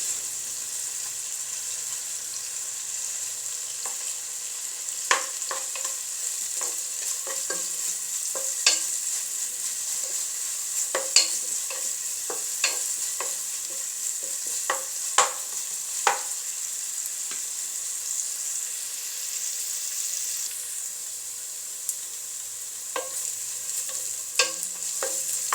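Chopped onions fry in a pan with a steady, close sizzle throughout, while a spatula scrapes and clicks against the pan at irregular intervals as they are stirred, before squash is added.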